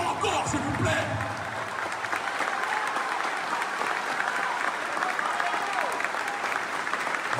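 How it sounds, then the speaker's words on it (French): Sustained, loud applause from a large crowd, dense clapping that fills the whole stretch with some cheering mixed in. "je vous demande de vous applaudir avec la plus grande puissance"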